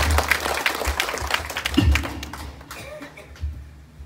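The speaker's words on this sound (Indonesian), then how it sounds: "Mari kita berikan tepuk tangan yang meriah kepada Ibu Ketua" Village gathering applauding a visiting regional official, scattered outdoor clapping that rises briefly, then thins out and fades, with a few knocks and low voices mixed in.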